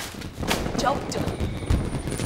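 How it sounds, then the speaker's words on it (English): Fireworks go off in a cartoon Halloween dress-up party scene, several sharp cracks and pops scattered across the clip against a busy background, moderately loud. "Well, hey, it's the fireworks. They've started."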